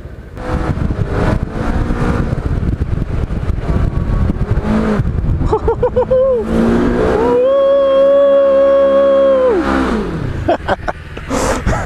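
A Polaris RZR XP 1000 side-by-side driving through snow on a frozen lake, its engine loud and close, revving up into a sustained high whine and then dropping, with a rider's voice exclaiming over it.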